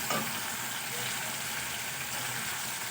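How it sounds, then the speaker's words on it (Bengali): A spice masala fries in a pan as a steady, close, even hiss with a short clatter at the start, continuous and without obvious talking. "মশলাটাকে খুব ভালো করে আমার কষানো হয়ে গেছে"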